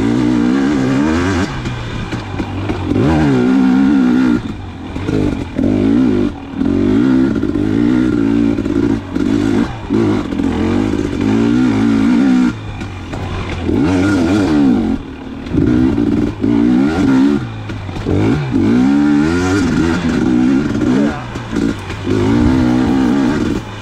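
A 2019 KTM 250xc two-stroke dirt bike ridden on slippery trails, its engine revving and bogging continuously with throttle changes, loud and close, with clattering and scraping from the terrain.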